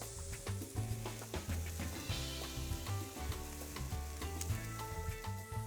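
Steak sizzling steadily on a hot grill, a dense continuous frying hiss with small pops and crackles, close and unbroken throughout.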